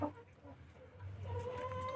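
Quiet, low clucking from Silkie chickens, with a few soft calls over a faint background.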